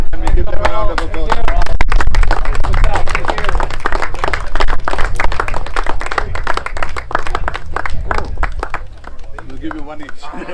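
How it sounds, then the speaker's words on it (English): A crowd at a St Anthony's College versus Trinity College match applauds the match officials, dense loud clapping that carries on for about ten seconds and fades slightly, with voices mixed in. "Can we give them a round of applause?"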